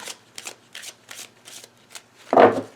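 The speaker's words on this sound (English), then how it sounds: "Let me get this shuffled really well, or get it mixed up better." A deck of playing cards being shuffled at close range, several quick riffling bursts that end in a louder final riffle.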